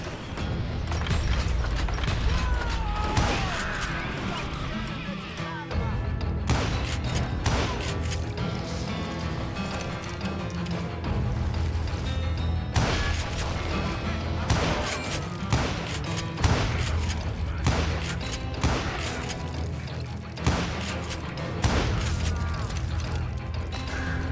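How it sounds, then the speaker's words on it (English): A dense fusillade of gunfire from the video game Call of Juarez: Gunslinger: rapid, overlapping shots and sharp cracks rattle almost nonstop, loud and close, with brief gaps between bursts. "a fusillade of bullets come raining down from on high"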